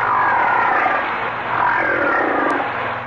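A whale vocalizes in a loud, rough, growling rumble that swells and eases twice, sounding much like a big cat's growl, with no other sounds around it.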